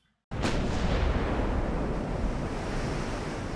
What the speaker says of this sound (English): we've engaged the American battleship at a range of around 10 kilometers, maybe a little more when we first sighted her